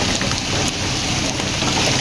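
Heavy rain pours steadily outdoors, a dense, loud roaring hiss of downpour with no voices over it.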